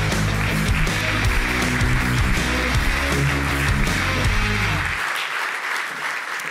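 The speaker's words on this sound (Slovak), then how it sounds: "veľký potles pre tohto ročného laureáta ceny Michala Poloniho" An audience at the Hockey Player of the Year 2023 ceremony gives loud, sustained applause for an award winner, with music underneath, before the clapping thins out near the end.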